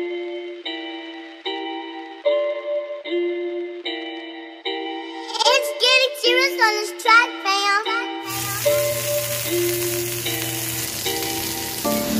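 Ground meat for a prison-style hamburger fries with a steady, close sizzle that starts partway through and continues to the end, over light background music that plays throughout.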